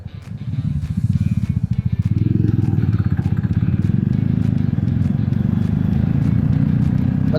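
A Royal Enfield Thunderbird motorcycle on the road gives a deep, steady thumping single-cylinder putter, loud and close, the rhythmic low beat continuing throughout amid traffic.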